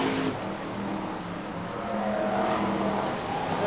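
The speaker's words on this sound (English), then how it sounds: "The car's still hurtling breakneck speeds around the circuit." BriSCA Formula 1 stock cars roar around the Skegness circuit, a continuous dense engine drone with revving tones rising and falling as cars pass, heard at a distance.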